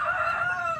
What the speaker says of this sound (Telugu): కోళ్ళన్ని మెట్టవాటాలండి